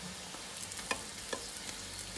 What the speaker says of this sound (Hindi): आप चम्मच से थोड़े थोड़े किनारों को दबा कर पकाएंगे